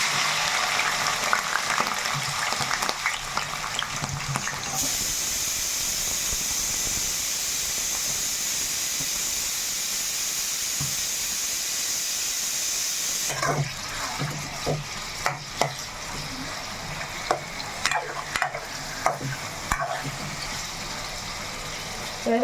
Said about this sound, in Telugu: చక్కగా ఫ్రైకి ముక్కలు వేసేసుకున్నాం కదా ఇవి బాగా వేగాలన్నీ